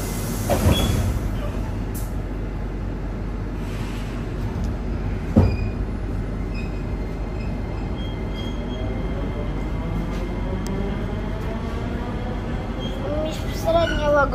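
Train running, heard from inside the carriage: a steady low rumble and rattle carries on throughout, with a few clanks and a rising whine near the end.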